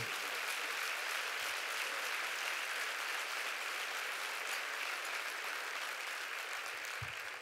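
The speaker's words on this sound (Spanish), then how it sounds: "Vamos, denle un aplauso grande." Sustained, even applause from a church congregation fills the room at steady volume throughout, with no voices over it.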